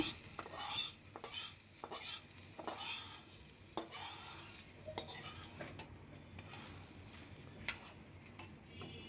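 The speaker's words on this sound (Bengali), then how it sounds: "ডাল বাগানোর দেওয়ার সময় যে একটা শব্দ আসে, শব্দটা খুব ভালো লাগে শুনতে।" Dal tempering in a pot, a light continuous sizzle under repeated clinks and scrapes of a spoon stirring against metal, fairly quiet and close, with no voices.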